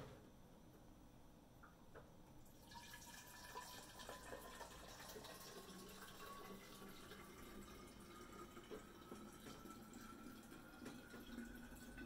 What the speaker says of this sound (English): realize that you haven't had any water. You should really pour some.